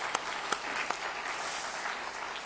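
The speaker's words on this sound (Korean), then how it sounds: "이들을 분발하도록 우리 박수 한번 할까요?" A church congregation at a youth revival gathering applauds, a steady distant patter of many hands with a few sharper individual claps standing out early on.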